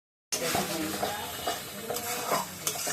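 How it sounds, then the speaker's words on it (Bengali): Ground spice paste hits hot oil and water in a pan, starting with a sudden sizzle that continues as a crackling hiss, with scraping stirs and clinks of a spoon against the pot. "বাটা মশলাটা ছেড়ে দিলাম। এটাকে ভালো করে কষিয়ে নিই"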